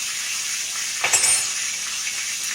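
A T-bone steak sizzles in a hot pan, a steady soft hiss of frying with one brief louder crackle partway through, no talking.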